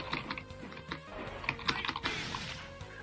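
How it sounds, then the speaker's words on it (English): Quick clicks from a computer keyboard come in short bursts under loud game music and effects while a fighting game is played. "I am playing this on a keyboard, so it's a bit tricky"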